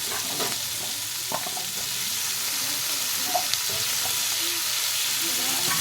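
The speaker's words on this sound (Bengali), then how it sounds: "আলুটা ওই পেঁয়াজের সাথে ভাজা হয়ে যাবে" Potatoes fry with onions in an oily pan in a home kitchen, giving a steady, close sizzle with a few light scraping stirs and no talking.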